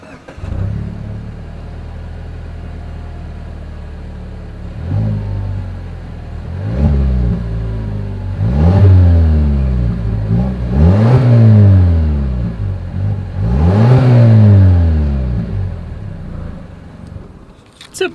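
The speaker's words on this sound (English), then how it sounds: "As always, here is that exhaust clip." A 2021 Mazda CX-5 engine idles with a deep exhaust rumble, then revs several times in rising and falling bursts before settling back.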